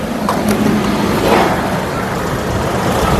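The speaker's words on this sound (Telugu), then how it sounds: "ఇంజన్ యొక్క నాయిస్ చాలా సైలెంట్గా అయితే ఉందండి" A 2017 Mahindra TUV300 T8 engine running with the bonnet open, a close, steady, smooth mechanical hum that holds even without talk.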